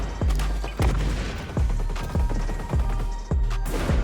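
Rapid gunfire in the online shooter XDefiant: roughly seven sharp, loud shots spaced unevenly across a few seconds, each with a short boomy tail, with no talk over them.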